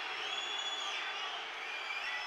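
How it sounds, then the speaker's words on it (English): Rugby stadium crowd at a Munster versus New Zealand All Blacks match, a broad sustained roar of voices reacting with displeasure, distant and continuous with whistles rising above it. "The crowd not happy"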